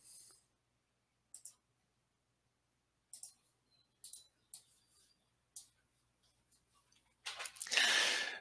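A computer mouse clicks now and then during a live demo of point-cloud viewing software. Faint, isolated clicks and short double clicks are spread across near-silence, followed by a brief burst of rustling noise at the end.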